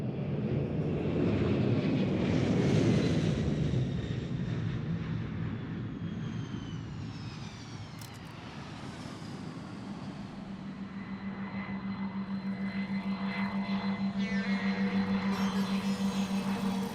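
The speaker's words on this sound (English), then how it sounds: "The plane lands there, the door opens." An airplane lands in Bali with a loud, continuous engine roar that fades slightly midway and then swells again into a steady droning hum, with no voices.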